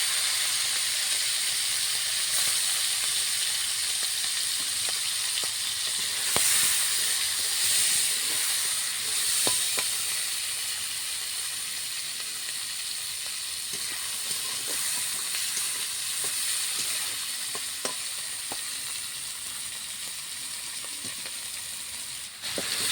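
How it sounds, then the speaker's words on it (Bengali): Fish fries in hot oil with a steady, close hissing sizzle that holds for a long stretch, punctuated by occasional small pops and crackles. "মাছগুলোকে ভেজে নেব।"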